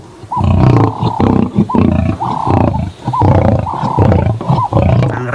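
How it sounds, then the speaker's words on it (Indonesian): Lions roar loudly and repeatedly, several long growling bellows in a row with short breaks between them, close and dominating, as in a children's animal-discovery sequence. "Wadidaw, ada singa."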